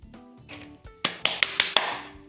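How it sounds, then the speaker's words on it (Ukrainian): Children in a preschool literacy lesson clap out syllables together, giving four or five crisp, evenly spaced claps. Sung or spoken vowel-like voices sound just before and between the claps. "Правильно, плескаємо."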